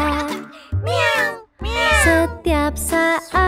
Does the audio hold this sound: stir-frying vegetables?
no